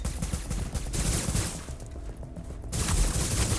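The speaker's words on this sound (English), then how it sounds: "Oh, he's shooting at me." Enemy gunfire in a shooter video game, rapid bursts of shots crackling continuously near the player, easing off midway and then resuming loud and dense.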